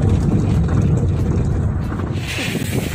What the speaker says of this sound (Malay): Angin, angin kuat, angin kuat, angin kuat cik.